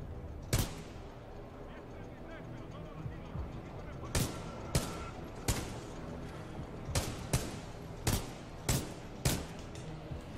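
Sharp gunshot cracks in Titanfall 2 ring out irregularly, some spaced apart and a few in quick pairs, over a low steady background hum.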